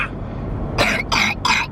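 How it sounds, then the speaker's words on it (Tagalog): A child coughs three times in quick succession, close and fairly loud, after a brief moment of quiet background noise. "Umubo siya."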